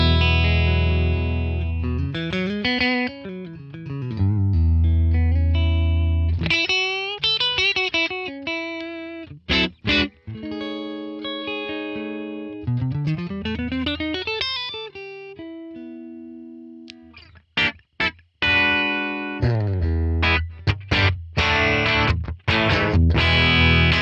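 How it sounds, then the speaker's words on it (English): Les Paul played with a clean tone through a Tonex ONE capture of a Fender Super Reverb amp: chords and single-note runs ring out with sustained harmonics, separated by brief pauses, loud and close with no talking. "Fender Super Reverb, that sounds great"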